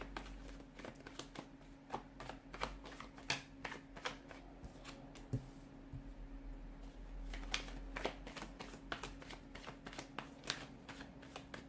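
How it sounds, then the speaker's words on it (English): Tarot cards being shuffled repeatedly up close, a rapid run of crisp flicks and slaps with one brief pause partway through. "let's give the cards a shuffle and let's begin."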